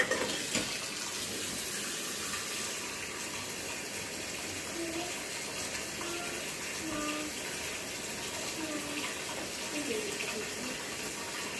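Tap water runs steadily into a sink while a small child washes dishes at home, a continuous close gushing hiss with faint voices in the background.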